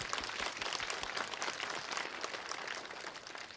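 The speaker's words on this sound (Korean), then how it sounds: "우리 아내께 영예 박수 한번 드리겠습니다" A church congregation at a Friday prayer meeting applauds in honor of the pastor's wife, giving a brief burst of steady, moderately distant clapping from many hands.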